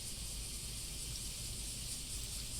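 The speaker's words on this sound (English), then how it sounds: "Apologies, by the way, if you can hear rain outside my room." Steady rain falls outside a room during bad weather in the UK, a constant soft hiss with no distinct drops, fairly faint and unbroken throughout.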